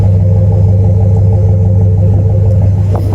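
A deep, throaty Chevy Silverado 1500 pickup exhaust with an aftermarket muffler idles and rumbles steadily up close, loud and low-pitched with a slight rev near the end.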